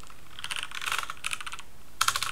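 Fingers type on a computer keyboard in quick, uneven bursts of clicky keystrokes, close and clear, broken by short pauses, with no speech over them.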